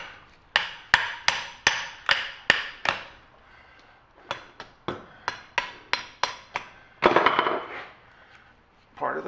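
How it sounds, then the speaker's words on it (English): Small hand hammer pounding on the steel core of a large core-and-coil transformer during teardown, a run of sharp metallic blows in quick bursts of four to six, close and loud, with a longer rough clatter near the end. "I'm going to take another little hammer here, and I'm going to pound out"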